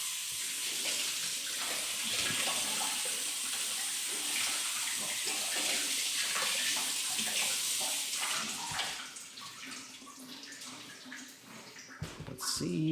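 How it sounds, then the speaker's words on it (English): Steady rush of water spraying over a car during a rinse after applying spray wax, a continuous hiss that eases slightly near the end, close by with no talking. "Time to rinse it off."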